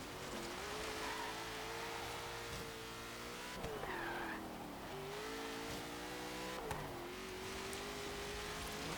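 A 2017 Ford F-150 Raptor in Forza Horizon 3 drives an autocross course, its engine droning at steady revs with shifts and brief tire squeal, holding a continuous moderate roar.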